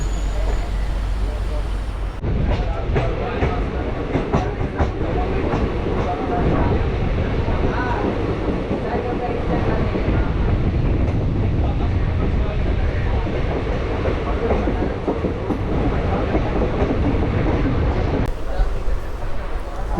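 Gurugram-to-Delhi local train rolling on its rails, a steady loud rumble and rattle that stays close throughout, with a voice talking over the carriage noise.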